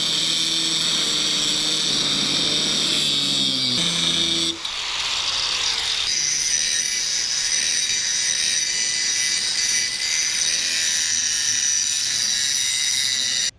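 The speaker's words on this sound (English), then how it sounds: "So now I'm gonna cut this all the way through, grind it as well" Power tool cutting and grinding steel for a Nissan Xterra rear recovery point, a loud continuous high-pitched whine that shifts pitch partway through as the cut begins, steady and close with no talk.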